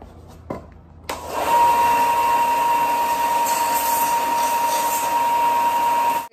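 A wooden walking stick being sanded with a power sander, a loud steady whine running continuously after a short quiet start, close and alone with no talking.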